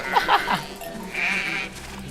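Sheep bleating in a flock in the video game Valiant Hearts: two short, close bleats in quick succession, the second slightly longer, over a soft murmur of background game sound.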